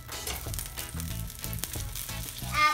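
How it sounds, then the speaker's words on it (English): Butter sizzles and crackles steadily on a hot skillet, a close, continuous frying hiss with small pops throughout and a slight swell at the end. "Butter on the skillet."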